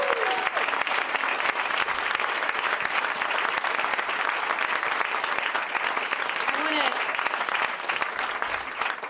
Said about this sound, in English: Let's give all of these performers another round of applause